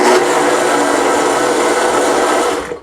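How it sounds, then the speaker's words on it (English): Kitchen blender whirs steadily while blending food ingredients with liquid, a loud, dense, even motor roar close up, running alone for nearly three seconds before cutting off abruptly at the end. "let me do a little bit more blending"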